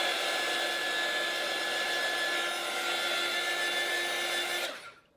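A hair dryer blows steadily and loudly at close range over a wet watercolor painting of trees, then switches off and winds down near the end.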